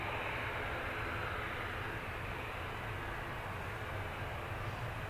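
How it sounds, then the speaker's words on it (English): A Jet2 Boeing 737-800 taxiing at Manchester Airport produces a steady, dense broadband engine roar that holds at a constant level throughout, with no voices. "We've got this Jet 2 going to Rome. It's a Boeing 737-800, registration GDRTL."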